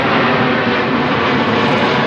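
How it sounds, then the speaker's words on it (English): A loud, steady roar of an airplane passing overhead fills the whole stretch without a break, with no voices. "Sorry about that plane."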